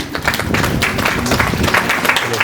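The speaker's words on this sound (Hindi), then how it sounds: "अपने लिए एक बार जोरदार तालियां बजाइएगा" An audience at a talk claps loudly, quick uneven hand claps blending into a steady burst of applause that continues throughout.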